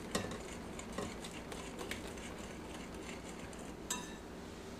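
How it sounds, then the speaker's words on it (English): Quick whisking of hot milk into a dry ingredient mixture in a bowl for coconut cream puffs: soft, steady scraping and patter under faint clinks of the whisk against the bowl, quiet and continuous. "scoop some of the milk, don't burn yourself on the pot. And slowly put this in,"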